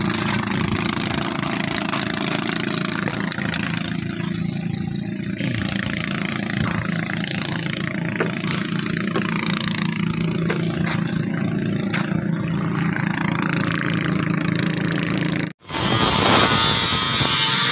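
A grinder cuts Tufdeck steel decking on a bridge construction site in Pampanga, a continuous loud whining roar that holds steady for most of the stretch before a brief drop and a harsher burst at the end.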